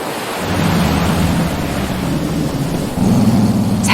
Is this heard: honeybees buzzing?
no